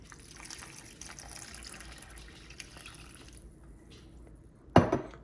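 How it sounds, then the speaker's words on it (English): About two cups of water poured into a thick sweet potato sausage Florentine soup: a soft low trickle and faint splashing for several seconds, ending in a brief louder splash near the close, without speech. "I'm going to add about 2 cups of water to it."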